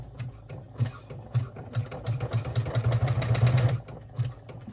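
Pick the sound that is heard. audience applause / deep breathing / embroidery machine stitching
embroidery machine stitching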